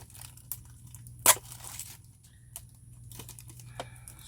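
Tearing a label off a VHS tape case, heard as one short, sharp rip close by, with lighter scraping and crinkling handling sounds around it over a steady low hum.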